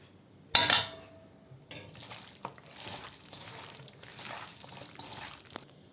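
Chicken and masala are stirred together by hand in a bowl, with one sharp clink of metal on the dish, then a soft, continuous wet squelching and scraping.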